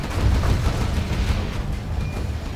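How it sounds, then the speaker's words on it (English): A Gatling cannon fires in C&C Generals as a dense, continuous crackle of rapid shots with no pauses. "Yep, got the Gatling cannon up."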